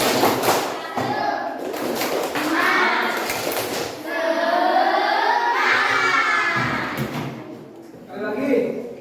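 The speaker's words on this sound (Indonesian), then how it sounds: "Kita masih belum tepuk semangat yuk. Tepuk semangat." Children in a classroom perform a rhythmic clap-and-shout chant, with bursts of sharp group claps and thumps alternating with loud chanted voices, close and lively throughout.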